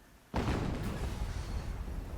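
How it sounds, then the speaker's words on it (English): A loud explosion from the video game Horizon Zero Dawn bursts in suddenly after a quiet moment, then sustains as a heavy, rumbling roar that carries on through the rest of the clip. "Another explosion."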